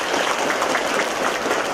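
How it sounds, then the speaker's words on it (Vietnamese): An audience at a church gathering claps together in a dense, steady burst of applause, loud and even throughout, with no voices above it. "chúng ta cho một tràng pháo tay ủng hộ Hệ đi"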